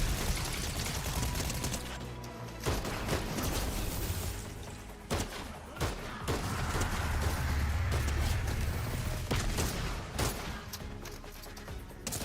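Airstrike weapon fire in a superhero video game, heard as a dense, loud stretch of overlapping blasts, crashes and rapid gunfire-like bursts rumbling continuously for about twelve seconds, with heavy low-end booms.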